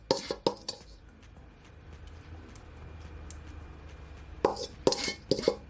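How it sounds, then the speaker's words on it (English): A metal pan of Jamaican sweet chilli jerk chicken clanks and scrapes as it is slid into a hot oven, with sharp clattering knocks at the start and again near the end and a quiet stretch between. "So guys, in the oven it goes."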